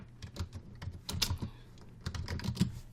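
Fingers typing on a computer keyboard, irregular bursts of sharp clicking keystrokes close by, pausing briefly then resuming in quick runs, with no voices.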